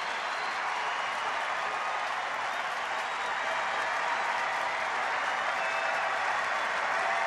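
A sellout baseball crowd at a Texas Rangers home game against the Angels cheers during the ninth inning, a dense, steady roar of applause and voices that holds at full strength throughout.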